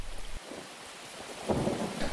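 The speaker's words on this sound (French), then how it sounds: "La pluie tombe ce jour-là." Rain falling with a low rumble of thunder, steady wash of noise that swells louder in the last second, no voices.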